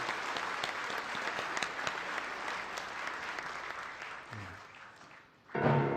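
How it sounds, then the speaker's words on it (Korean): At a national prayer breakfast with the Korean president, a large audience applauds steadily for about five seconds before a voice comes in over the last moments. "영광의 박수 올리겠습니다."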